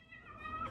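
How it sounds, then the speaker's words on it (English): A cat eats a cooked red bell pepper, giving close, wavering growl-like vocal tones that rise and thicken toward the end, heard alone for under a second. "It's the cat eating the red pepper."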